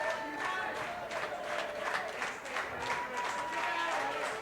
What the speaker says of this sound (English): The Georgetown fans get the clapping wagon back on track.